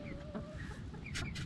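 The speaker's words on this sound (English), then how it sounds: "So we got 3 more buff Orpingtons, and the dark ones are blue lace Wyandotte" Buff Orpington and blue lace Wyandotte chickens cluck quietly in a backyard run, with a few soft short clucks and a couple of brief higher squawks toward the end, faint and somewhat distant.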